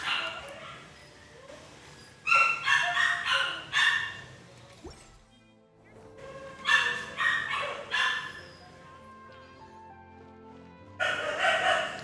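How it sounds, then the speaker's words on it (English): Dogs barking in the background during a Genshin Impact stream, several bursts of barks and yips in clusters separated by quieter gaps, fairly loud and close. "Do the dogs sound as loud as they usually do?"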